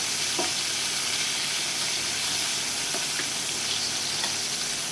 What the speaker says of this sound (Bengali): উচ্ছেতে বেশি একটু পেঁয়াজ দিয়ে ভাজলে অসাধারণ খেতে লাগে